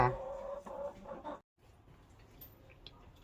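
Six egg-laying hens of an imported ornamental breed cluck in a coop, a few close, clear clucks at the start that fade out, then quiet farmyard background.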